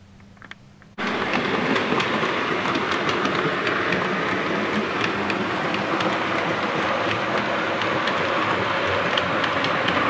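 After a second of quiet, a train rumbles loudly past with a constant clickety-clack of wheels on rails, sustained to the end.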